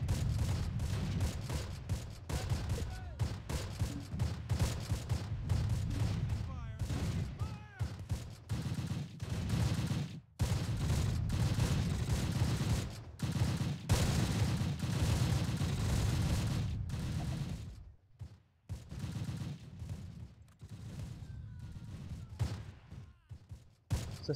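Sustained battlefield gunfire in the wartime strategy game Close Combat, dense rattling bursts and crackling shots from an enemy gun firing almost without pause, loud and close, with brief lulls between volleys.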